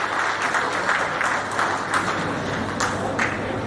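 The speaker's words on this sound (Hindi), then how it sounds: "सभा तालियां बजा करके इसका अनुमोदन करें।" An assembly at a society annual general meeting claps in approval, a steady, moderately loud patter of many hands that continues without pause for several seconds.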